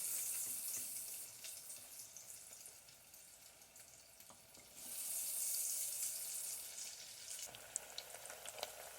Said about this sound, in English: Just drop them in the fryer.